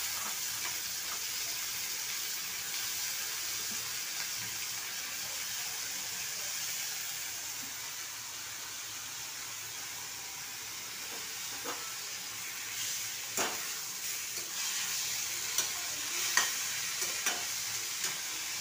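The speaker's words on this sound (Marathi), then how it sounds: "तर मी ही भाजी टाकून घेते" Vegetables go into a hot pan and fry with a steady broad sizzle, joined later by a few sharp stirring scrapes and clinks near the end.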